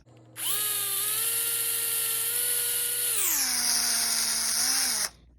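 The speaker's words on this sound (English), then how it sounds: "Now I got my Bosch baby drill, and I'm gonna go ahead and mix this for a minute or so." A small Bosch drill spins up and whines steadily while mixing epoxy for a wood table finish, then drops to a lower pitch partway through before stopping abruptly after about five seconds.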